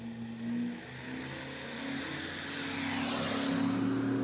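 Duramax diesel pickup with slicks on all four wheels revving at a drag strip start line, a distant engine roar building steadily, fairly faint.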